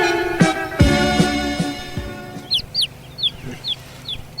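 Chickens clucking and a rooster crowing nearby, loud harmonic calls at the start followed by a series of short, sharp clucks and chirps.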